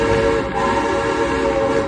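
A loud, sustained steam train whistle at Silver Dollar City blows continuously at close range, a steady multi-tone blast with no pauses.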